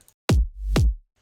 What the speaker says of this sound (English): Just kick, white noise and sub sweep